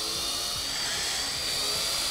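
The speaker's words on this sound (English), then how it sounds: "It's always best to pre-drill." Power drill pre-drilling into smooth-finished MDF board for a custom bench, a steady high-pitched whine running alone and fairly close for about two seconds.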